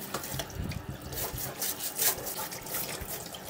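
A large beef neck is washed under a running tap, with water splashing and gurgling steadily and fairly close at a moderate level.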